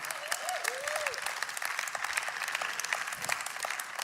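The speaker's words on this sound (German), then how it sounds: "lasst uns für diese Tatsache Gott einen Applaus geben" Loud, enthusiastic applause fills an ICF church service, with dense clapping throughout and a few whoops rising above it.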